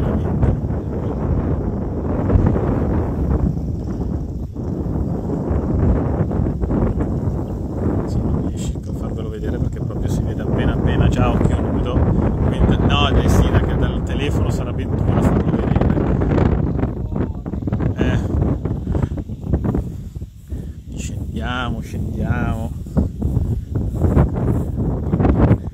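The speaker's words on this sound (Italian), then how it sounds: "doveva alzarsi il vento" Gusty wind buffets the microphone at an outdoor fishing competition venue, a rough low rumble that rises and falls throughout while someone talks over it.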